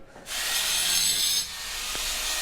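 An angle grinder cutting at a construction site gives a loud, continuous high-pitched grinding hiss that starts abruptly, holds steady for about a second, then eases into a lower ongoing rasp.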